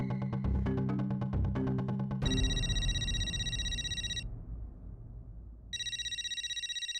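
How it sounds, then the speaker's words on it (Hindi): A telephone rings with a bright electronic ringtone, repeating tonal bursts that stop and then resume, heard over a sitcom-style music cue at the start. "गोली का फोन"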